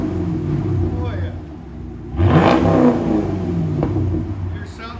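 A Chevy Camaro SS with a 6.2L V8 and Flowmaster Super 10 exhaust revs up loudly midway, a deep rising roar that holds and then settles back to a rumbling idle, with people talking over it.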